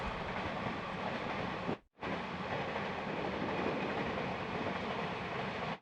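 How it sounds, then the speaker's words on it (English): Two Transnet Class 18E locomotives haul an eastbound container train past at close range: a loud, continuous rumbling roar with rattling wagons and a brief dip in the noise. "here come two Transnet Class 18Es and their container train heading east."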